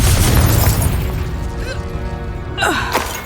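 Fire spell explosion from Hogwarts Legacy video game: a loud, low booming blast at the start with crackling debris, decaying into rumbling tail, then a second whooshing burst near the end, no voices.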